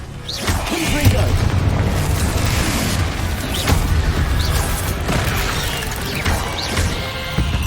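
A Confringo fire spell cast in Hogwarts Legacy, bursting in several heavy booms and crashes over a dense, continuous rumble of combat noise, loud and close.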